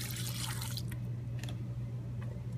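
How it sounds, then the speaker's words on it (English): Used ultrasonic cleaning liquid from SilencerCo Sparrow and Spectre 2 suppressors is poured into a 5-gallon jug, a close, steady trickling and splashing over a constant low hum, with a few brief drips. "I'm just going to fill this up into a 5-gallon jug"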